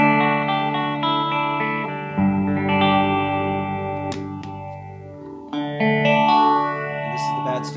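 Clean electric guitar from a Les Paul played through a Victoria amp, sustained chords and ringing notes with a few string scrapes and pick attacks, steady and moderately loud with no talking.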